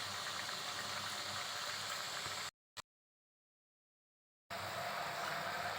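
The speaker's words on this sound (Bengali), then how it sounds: "এটা আস্তে আস্তে ধীরে ধীরে ভাজতে হবে, না হলে ভিতরটা কাঁচা থেকে যাবে" Gaja sweets deep-frying slowly in hot oil give a steady, dense sizzle that cuts out for about two seconds mid-clip, then resumes at the same level.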